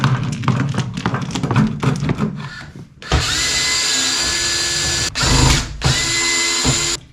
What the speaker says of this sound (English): now I'm using the drill in order to get